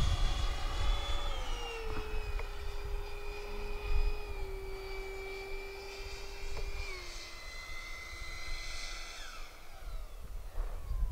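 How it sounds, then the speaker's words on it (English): The electric ducted fan of an FF-Viper-70 RC jet prototype whines steadily nearby as a strong tonal hum with harmonics, its pitch sliding down in steps as the throttle eases back. "Yeah, I do love the sound of the EDF."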